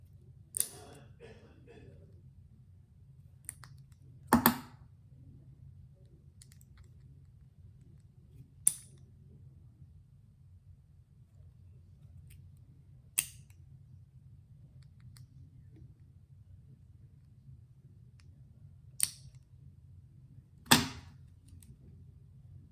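Press-on nails being cut with clippers, a handful of sharp, isolated snips spaced several seconds apart against a quiet background.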